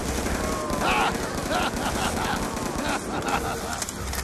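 Gunfire from the video game Mob of the Dead, loud rapid bursts of automatic shooting that rattle continuously, mixed with game sound effects and no pauses.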